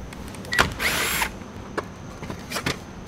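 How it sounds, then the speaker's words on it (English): A power tool fitted with a 10mm socket spins off a license plate bolt, giving a short whirring burst followed by brief, sharp trigger pulses close by. "We're going to use a 10mm socket for the one that's in ours."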